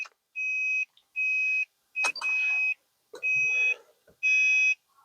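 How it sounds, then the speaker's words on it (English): Electronic beeping from a car radio module, five steady high-pitched tones of about half a second each, evenly spaced with short gaps, close and clear with faint clicks between. "See if I can stop that beep."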